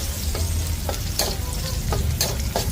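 Garlic fries in a pan for a pork giniling dish, giving a dense close sizzle broken by quick scraping stirs at a steady rhythm, with no talking.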